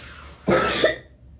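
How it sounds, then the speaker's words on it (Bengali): A child's single short cough rings out close by against a quiet background, followed by silence. "এখন দেখছি মাঝে মাঝে কাশি হচ্ছে"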